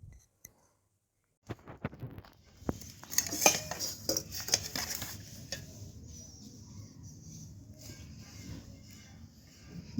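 Cutlery clinks and scrapes against dishes during a home meal, with light irregular clicks and taps over a soft background.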